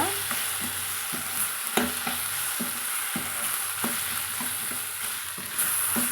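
Brinjal sautéing in a hot pan for kuzhambu, with a continuous sizzle and a regular series of spoon scrapes and taps against the pan, close and fairly loud.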